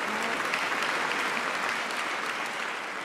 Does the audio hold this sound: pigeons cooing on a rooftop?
no